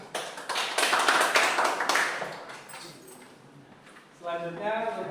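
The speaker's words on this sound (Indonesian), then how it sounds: "Tepuk tangan ya untuk nomor 1." A classroom group applauds after a presentation on diagnosing EFI fuel system faults, a burst of dense clapping that fades out, followed by a voice speaking.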